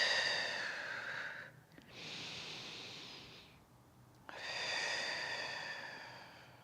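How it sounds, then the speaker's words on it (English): Slow, deep in-and-out breaths taken during an easy home mobility workout for the mid-back and rib cage, three long breaths with short pauses between, close and fairly soft, no talking. "Nice big deep breath. Really push through the ribs."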